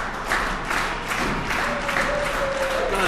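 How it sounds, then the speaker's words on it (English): An excited crowd at a wrestling event claps and cheers throughout, a dense steady roar of applause with a faint voice rising through it. "A very excited crowd here tonight."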